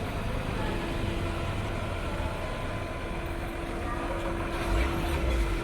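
A train at Rajapur railway station produces a continuous broadband rumble with a steady low hum, loud and close, rising slightly near the end.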